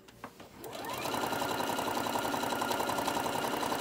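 A home sewing machine set to a 2.5 stitch length runs an average straight stitch, a brief click, then a rapid, even, close mechanical whirring hum that holds steady to the end.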